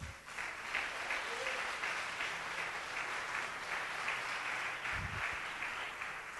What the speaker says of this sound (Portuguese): As palmas para ele.